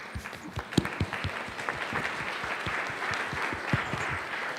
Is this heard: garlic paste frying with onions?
no